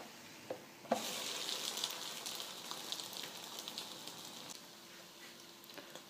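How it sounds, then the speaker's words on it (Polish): Soft, steady sizzling of takoyaki balls frying in oil, with faint crackles and a small clatter near the start. "Teraz sobie dalej będą tutaj się kuleczki smażyć"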